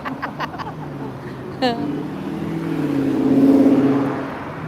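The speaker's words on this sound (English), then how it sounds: "Yeah, heavy traffic." Cars in heavy road traffic roar past on a busy downtown street, a passing vehicle's engine swelling and fading amid steady traffic noise, with a brief tone near the start.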